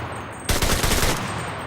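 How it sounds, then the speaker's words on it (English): Mounted machine gun on a sandbag wall fires in a video game, a sudden loud sustained burst of rapid shots after a brief quiet lead-in, ringing out to the end. "when you add in the added mounting of the weapon on the sandbag wall, this thing can shoot pretty far."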